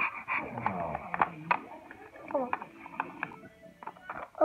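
Cartoon dog whimpering and yipping in short, high whines and small yelps, scattered through the clip at close range, with a few sharp knocks and bits of cartoon chatter mixed in.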